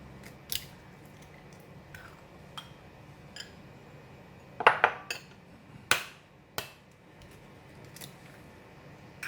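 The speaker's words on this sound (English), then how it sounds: "Meanwhile, while waiting for the water to boil, I'm going to crack the egg." Eggs are cracked into bowls in a kitchen while water heats: a series of sharp, brief taps and cracks, some in quick clusters, with quiet gaps between them.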